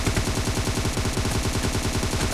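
Dense automatic gunfire in the video game PUBG, loud and close, with rapid evenly spaced bursts running continuously and no voices.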